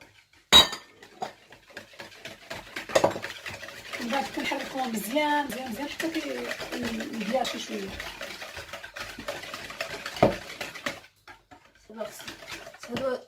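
Eggs and sugar are mixed in a bowl, with a whisk or spoon clinking and scraping against it in uneven bursts, while a voice talks throughout with some sharp knocks and pauses.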